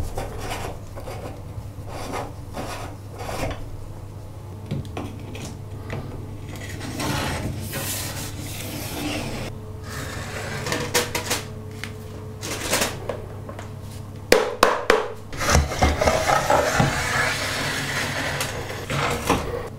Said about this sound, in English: A long piece of wood with a coin screwed to the end of it. That will enable me to get past the sludge and then scrape it back.